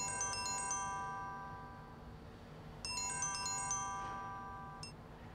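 A telephone ringtone plays two bursts of bright, repeating electronic tones, clear and fairly close, the second starting after a short pause, with no voices over it.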